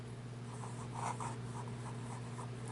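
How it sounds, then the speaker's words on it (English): Edison Collier fountain pen writing on paper, a soft close scratching in short repeated strokes over a steady low hum, quiet and alone. "it's writing time"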